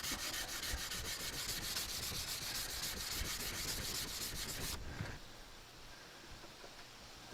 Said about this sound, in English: Let the sandpaper do the work, and make sure you have a fresh abrasive side pretty often so that you're getting a nice clean scuff here.